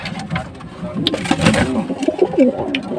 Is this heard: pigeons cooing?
yes